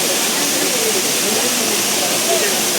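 Steady rushing water from the Katika waterfalls on a forest trek, a dense, continuous roar filling the scene without pause, with faint voices barely audible underneath.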